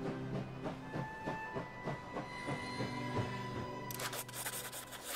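Train arriving at a station in the video game Last Train Home, rhythmic clickety-clack of wheels over rail joints with hissing and rubbing, then a brighter burst of hiss near the end.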